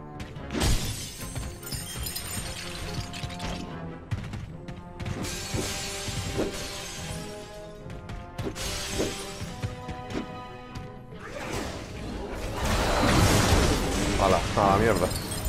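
Crystals shattering in the Knack video game, a dense run of glassy crashes, clinks and mechanical ratcheting that carries on almost continuously and loudly across the whole stretch, over layered game effects and music.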